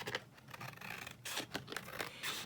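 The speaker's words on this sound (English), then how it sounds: "just going to cut this border edge off" Scissors snip along the border edge of a paper file folder pocket, giving a run of quick, close crisp cuts and light rasping paper scrapes, with no voices.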